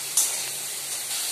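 Masala frying in a pan, cooked down before fish heads go in: a brief close hissing sizzle with a sharp spitting burst at the start, then a steady soft hiss.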